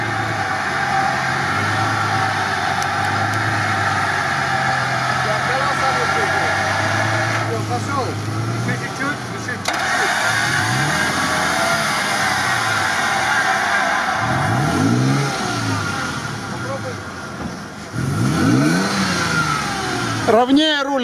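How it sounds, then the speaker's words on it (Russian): A UAZ off-road vehicle's engine idles low, then revs repeatedly in rising and falling surges as it is pulled by a winch over rough terrain, close and loud, with voices talking over it. "Уазик на лебедке выехал."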